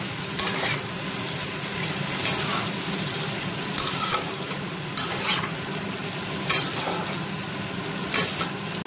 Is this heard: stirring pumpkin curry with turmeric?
yes